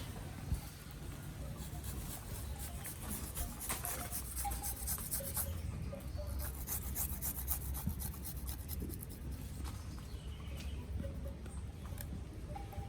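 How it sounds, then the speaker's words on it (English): A garlic clove is grated by hand for farine in a backyard kitchen, a faint, continuous scratchy rasping with light rubbing strokes throughout. "Grate some garlic, put as much as you like."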